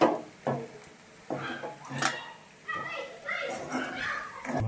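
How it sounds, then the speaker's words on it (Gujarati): Sabudana and peanuts stirred in a pan, with a series of spaced scraping and clattering strokes of a spoon against the metal, close by, while someone talks throughout. "એને મિક્સ કરી લઈએ જરા એકાદ મિનિટ માટે ચલાવી લઈએ"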